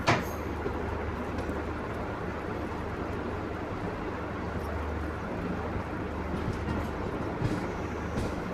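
A light Alco diesel locomotive idles at a railway station, giving a steady, dense engine rumble that continues unbroken at an even level, with no talk.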